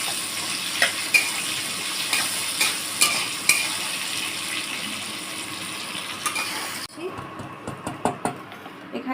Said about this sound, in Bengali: এখানে আলুগুলো ভাজা হয়ে গেছে